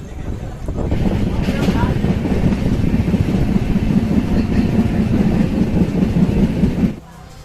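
The 12546 Karmbhoomi Express, a passenger train from LTT to Raxaul, pulls out of Kamtaul railway station. A steady, close rumbling clatter of wheels and carriages runs for several seconds, then drops away abruptly.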